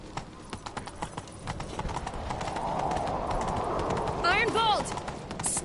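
Hooves clatter in a quick galloping rhythm in The Witcher 3: Wild Hunt, growing steadier, followed by a horse's whinny near the end.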